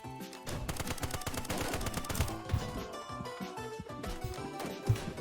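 Rapid bursts of gunfire crack repeatedly in a dense video-game mix from Poly Tears, with AK automatic fire and sharp individual shots layered close together.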